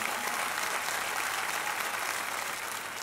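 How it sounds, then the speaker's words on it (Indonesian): Steady, dense audience applause at a televised talent show audition, a continuous wash of many hands clapping at even loudness throughout. "Boleh tepuk tangan ya."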